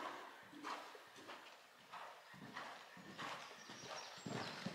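Horse cantering over a show jumping course, soft rhythmic hoofbeats thudding in repeated strides at a distance, faint and fairly quiet.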